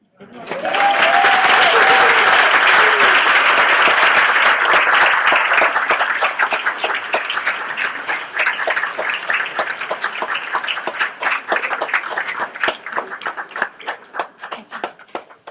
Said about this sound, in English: one more round of applause for all of tonight's speakers.